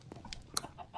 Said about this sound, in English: the chickens are invading